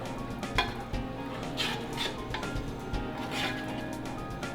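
Sugar is stirred into a sauce of vinegar, wine and lemon juice in a pan: soft scraping and faint clinks over a constant low background hiss, moderately quiet, with no speech.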